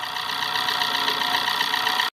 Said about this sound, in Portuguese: vai aumentando o barulho aqui também, ó. E é da parte superior do motor, tá? O cabeçote.